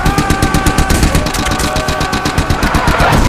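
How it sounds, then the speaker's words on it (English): A Lewis machine gun fires a long, sustained burst of rapid automatic shots, loud and close, with an even hammering rhythm and no pauses. "Lewis machine guns are pretty fucking awesome"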